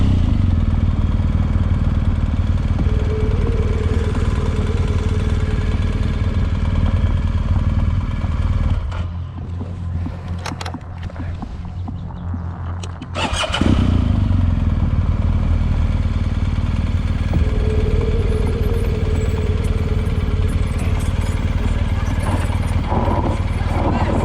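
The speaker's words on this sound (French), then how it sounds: "On entend les moteurs au fond." Trail motorcycle engines run steadily at an off-road riding course, a continuous mid-pitched drone that dips briefly in the middle before returning, with speech faintly mixed in.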